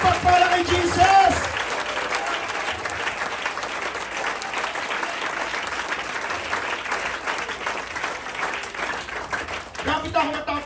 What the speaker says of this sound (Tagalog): Yung malakas-lakas na palakpak para kay Jesus.